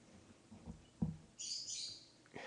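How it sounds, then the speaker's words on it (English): A small bird chirps in the background of a quiet indoor room, giving a cluster of high twittering notes lasting about a second, moderately faint and heard alone without talk. "that's the bird in the background."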